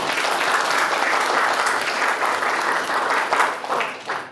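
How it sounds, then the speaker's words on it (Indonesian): A class at a teacher-training session for Islamic religious education applauds a participant, producing a steady, full burst of many hands clapping together, moderately loud and unbroken, fading slightly near the end. "tepuk tangan untuk Yosef"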